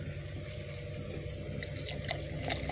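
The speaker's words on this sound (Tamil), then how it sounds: "இப்போ வந்து நம்ம தண்ணி ஊற்றிக்கலாம்" Water pours steadily into a cooking pot for rasam, a continuous splashing rush with a few brighter drips and splashes near the end.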